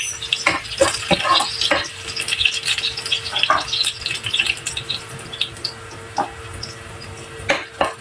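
Garlic frying in hot oil until light brown for pork afritada, a steady crackling sizzle broken by repeated scraping stirs and clinks of a utensil against the pan, close and fairly loud.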